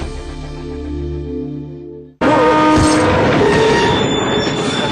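A passenger train grinds to a halt after someone pulls the emergency chain. A sudden loud burst of rail and wheel noise with squealing brakes hits after a short quiet gap, then a steady harsh rumble carries on to the end.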